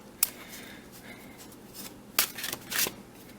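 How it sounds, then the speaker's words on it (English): Tarot cards being shuffled close by: soft riffling, then bursts of crisp card flicks and slides, growing busier toward the end against a low room hiss. "I'm just shuffling now off camera."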